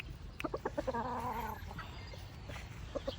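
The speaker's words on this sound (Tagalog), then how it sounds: "Yan po yung naiwang mga manok naming mga ano." Chickens cluck in short bursts, with one longer drawn-out call in the middle, close by and moderately loud.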